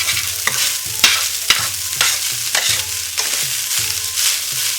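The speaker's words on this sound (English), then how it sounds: "So you just want to fry it around." Rice stir-fried in a hot pan for egg rolls, a loud close sizzle broken by regular spatula scrapes and knocks at a steady rhythm, with no voices.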